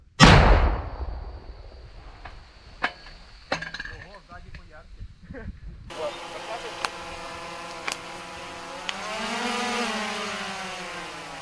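An L119 howitzer fires with a heavy boom at the start, followed by sharp metallic clinks and knocks, then a steady engine rumble continues underneath.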